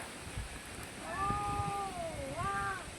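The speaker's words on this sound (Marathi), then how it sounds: "इकडे वरती मारामारी करतात मांजरं" Cats fighting up high above a village yard in Konkan let out drawn-out, wavering yowls: two rising and falling cries, faint and distant over quiet outdoor background, with no talking.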